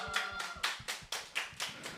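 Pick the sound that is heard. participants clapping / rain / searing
participants clapping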